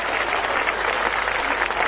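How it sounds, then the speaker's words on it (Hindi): Continuous audience applause at a Hindi comedy performance, a dense even wash of clapping from a crowd, close and loud throughout. "तालियां आप ठीक से नहीं बजा रहे,"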